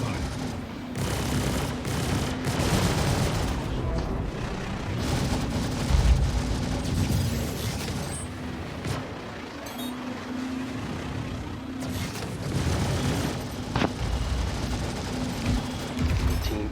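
Ship weapons roar through a dense, continuous barrage in a Star Citizen space dogfight, sustained rumbling gunfire with occasional sharper bursts, loud and unbroken throughout.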